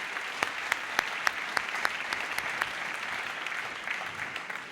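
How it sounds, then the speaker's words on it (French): An audience claps steadily at an awards ceremony for property developers, a fairly distant, even wash of applause with a few sharper claps standing out, continuing throughout without pause. "on les applaudit Voilà, oui, très fort tous les grands 5."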